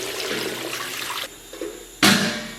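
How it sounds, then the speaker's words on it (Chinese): Tap water pouring into a pot of beef tendons, a loud rushing splash close by that stops, leaves a brief quiet gap with a small clatter, then surges again. "来点82年的自来水啊"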